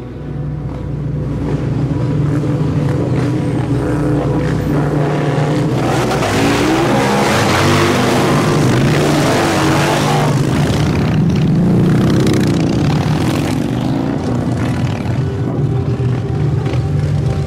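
Outlaw motorcycle club motorbikes on the Gold Coast roar together in a loud, continuous engine din, revving and swelling through the middle before holding at full volume with no talk.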